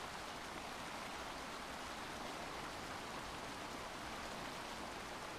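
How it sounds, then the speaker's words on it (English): A waterfall in a video game rushes as a faint, steady broadband roar, continuous and unchanging, with no voices. "The waterfall is masking my sound and I love it"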